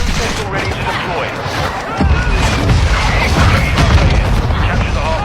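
A missile strike in Call of Duty: Modern Warfare 2 lands as a heavy boom partway through, followed by a sustained, loud rumbling roar mixed with game noise and voices.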